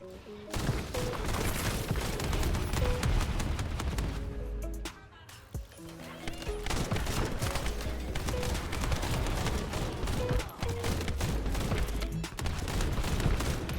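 Reversed Fate gun in The First Descendant firing twin bullets that trigger bombardments: dense rapid gunfire mixed with booming explosions, loud and nearly continuous, with a brief lull midway.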